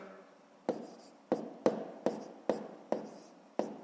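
Numbers being written by hand on paper during a school arithmetic exercise, heard as a series of seven sharp pen taps and strokes at a steady, unhurried pace, close and quiet.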